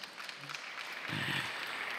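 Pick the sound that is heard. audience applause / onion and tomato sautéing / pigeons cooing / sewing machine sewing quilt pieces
audience applause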